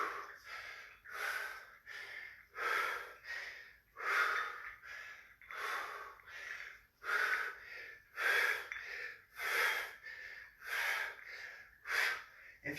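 Heavy rhythmic breathing during a home tricep kickback workout, close and steady, with about a dozen forceful breaths in and out at a regular pace and no talking.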